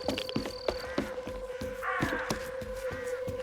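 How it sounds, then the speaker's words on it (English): Crows cawing in the S.T.A.L.K.E.R. 2 video game, a series of distinct harsh caws repeating irregularly, some near and some farther off, over a faint steady tonal hum. "Crows, though."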